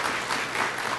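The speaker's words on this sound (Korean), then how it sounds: "큰 박수로 맞이해 주시기 바랍니다" Audience applause at a university entrance ceremony welcoming the president to the podium, a short burst of even, steady clapping from a large crowd.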